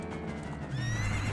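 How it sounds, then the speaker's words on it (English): Horse neighing in Ocarina of Time, a rising whinny that swells loud near the end over steady game background sound, with no talking. "You can actually use the stereo sound to hear where the horse is at."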